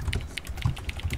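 Keys clattering on a laptop keyboard close to a microphone during a Counter-Strike gaming session, a quick irregular run of sharp clicks and taps with no talking.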